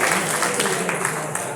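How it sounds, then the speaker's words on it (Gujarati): An audience at a devotional gathering claps for devotees, with dense, continuous applause throughout. "આ સર્વે ભક્તોને ખૂબ જ જોરદાર તાળીઓના નાદથી આપણે"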